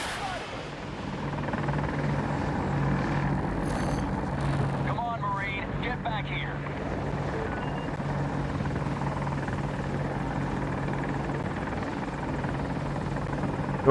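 A Little Bird helicopter in the video game Battlefield 2042 drones steadily throughout, a loud, continuous rotor and engine rumble with a brief whooshing pass partway through.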